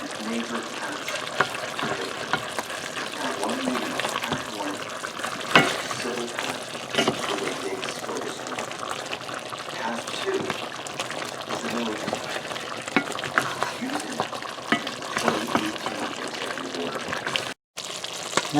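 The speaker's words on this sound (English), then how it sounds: "So we're going to mix the butter in and let it melt." Butter being stirred into a sizzling pork rib adobo sauce in a pan, a steady bubbling fry with soft stirring scrapes throughout, under a person talking.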